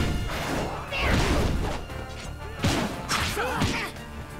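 Heavy hammer strikes in the One Piece World Seeker video game, several loud thudding, crashing impacts spread across the clip amid game effects.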